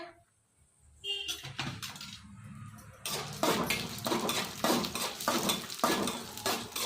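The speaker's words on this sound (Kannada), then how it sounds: "ಈಗ ಮೊದಲಿಗೆ ಕಡಲೆಬೇಳೆ ಹಾಕ್ಕೊತಾ ಇದ್ದೀನಿ ನಾನು." Chana dal tipped into a pan for a chutney powder, giving a rattling clatter of dry lentils and metal kitchenware scraping and clinking, louder after the first few seconds, close and busy with no talk.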